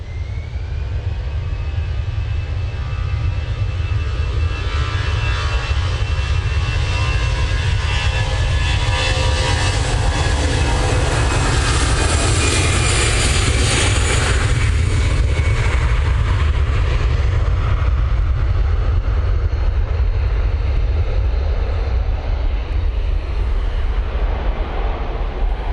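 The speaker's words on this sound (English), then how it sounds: "EasyJet A320 is off to Belfast" An EasyJet Airbus A320 takes off from Manchester Airport, a steady loud jet roar with deep low rumble that holds for the whole stretch, swelling slightly midway, with no talk over it.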